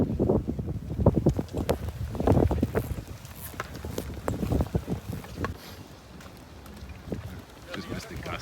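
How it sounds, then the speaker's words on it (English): Strong blizzard wind at a ski lodge on Mount Mansfield, Vermont, buffets the microphone in low rumbling gusts, loudest early on and easing to a steadier roar later. "Just missed a gust to 40. So there's plenty of wind."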